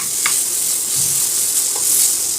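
Pointed gourd peels with turmeric and salt sizzling in a pan, a loud, continuous crackling fry with a few soft stirring knocks, no voices.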